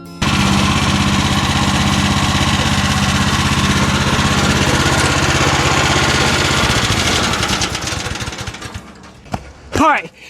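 A homestead stump grinder's engine runs with a loud, steady mechanical chatter, then winds down and dies away near the end, with speech heard over it.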